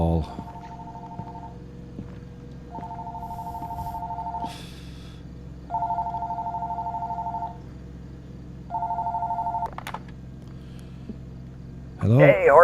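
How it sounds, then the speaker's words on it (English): Telephone ringing in the horror video game Fears to Fathom, four evenly spaced electronic rings with pauses between, clear and close, followed by a voice at the end. "phone call."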